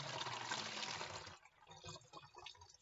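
Red-colored water pours into a cup for a math lesson, a brief close splashing stream that fades after about a second and a half into a few small trickles and drips.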